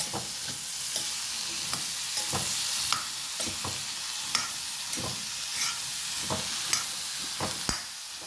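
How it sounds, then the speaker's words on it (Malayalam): Chopped rose apple sautéing in a pan for pickle, with vinegar added, giving a steady close sizzle broken by regular scraping stirs of a spoon against the pan, with no talking. "അരിഞ്ഞ് വെച്ച ജാമ്പക്ക ഇടാം നന്നായിട്ട് നന്നായിട്ട് വഴക്കി കൊടുക്കണം"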